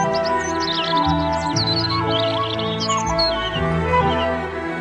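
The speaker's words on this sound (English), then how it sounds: "Everywhere the birds were very active," Birds chirp and tweet in hedges and trees, scattered high calls running continuously over a dense, steady bed of sustained tones and background music.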